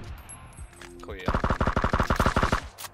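Rapid automatic gunfire in PUBG, a burst of about a dozen evenly spaced shots, loud and close, following a brief quieter moment with faint background sound.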